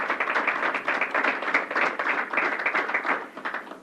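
Applause at a state governor's COVID-19 update, a steady patter of many hands clapping at moderate level for nearly four seconds with no one speaking over it.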